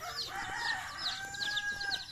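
Chickens clucking and crowing close by on a pig farm, a steady stream of overlapping calls over a low outdoor background.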